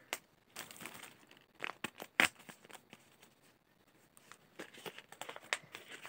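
A candy package being cut open, with faint crinkles of plastic wrapping and one sharp snip, plus a few scattered rustles and taps at close range, quiet overall.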